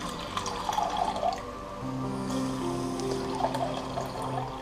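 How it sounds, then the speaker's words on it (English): Tap water running and pouring into a measuring jug while 400 millilitres of tepid water are measured for bread dough, a steady close splashing flow with a shift partway as the stream changes. "So I'm going to get 400 milliliters of tepid water."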